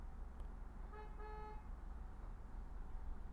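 A car horn toots in the street, a short two-part honk about half a second long, faint and distant behind steady low traffic hum.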